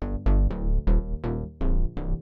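Gritty synth bass with distortion on a thick layered group, playing short punchy notes in an uneven rhythm, loud and alone.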